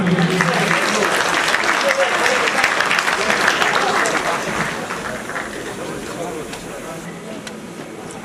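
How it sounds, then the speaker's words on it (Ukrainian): Audience applause for the judges at a 2007 Carpathian Cup boxing tournament, a dense wash of clapping from a large crowd that fades gradually toward the end, with some voices mixed in. "Оплесками проводжаємо їх."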